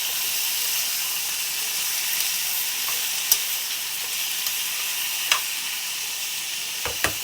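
Tomatoes and green chillies sizzling and frying in a pan for an egg tomato curry, a continuous bright hiss with a few sharp clicks of a spoon stirring against the pan.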